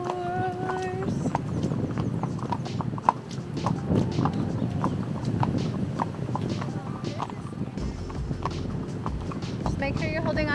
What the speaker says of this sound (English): We're riding on a horse.